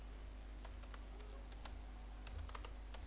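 Soft, fairly faint keystrokes on a computer keyboard tap out an irregular run of clicks over a low steady hum.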